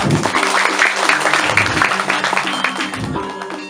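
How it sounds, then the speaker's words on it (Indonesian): Audience clapping during a Balinese bondres comedy performance, a fairly close burst of applause mixed with tonal accompaniment and voices, tapering slightly toward the end. "Tepuk tangan dulu"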